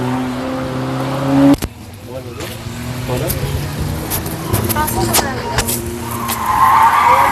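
A racing car skids in Bangalore, a loud sustained tire screech with engine noise, close and prominent over a busy crowd; a sharp thump interrupts early and people talk throughout.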